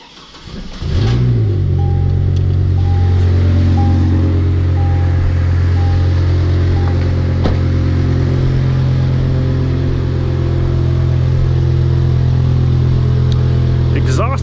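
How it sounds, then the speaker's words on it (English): Steady, loud idling rumble from a 2004 Chevrolet Colorado pickup with a Magnaflow catback exhaust that has a hole and rattles, holding an even low drone throughout with someone talking over it. "Exhaust on this is a Magnaflow catback, but it's got a hole in it and it rattles"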